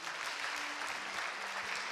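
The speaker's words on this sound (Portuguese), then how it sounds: "E você aplaude o nome de Jesus aí." Church congregation applauding at an evening service, a steady dense wash of many hands clapping, continuous and fairly loud with no pauses.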